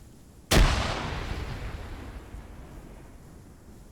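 One loud, close gunshot or artillery-like blast in the military shooter game Arma 3, with a long rumbling decay and no talking.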